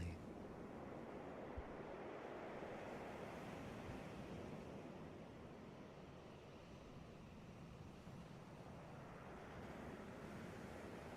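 Ocean waves wash onto a beach in a continuous, soft surf roar, with a low breezy rumble underneath and no distinct crashes, steady throughout.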